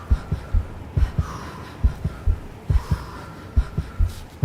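Heartbeat percussion with gasping breaths in music from the climbing game CAIRN, a steady thudding double-beat pulse with a soft breathy hum above it.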